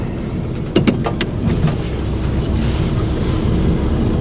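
An old truck's engine idles and creeps along during a tight parallel-parking manoeuvre beside a fire hydrant and a Chevy Cruze, a loud steady low rumble with a few brief clicks early on, no talking.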